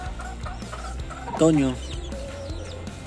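A year-old young rooster, about 13 months, clucks in a short loud burst partway through, with softer fowl sounds and a person speaking around it.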